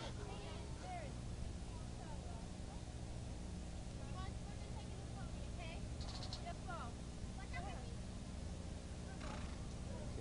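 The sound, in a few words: horse at the fair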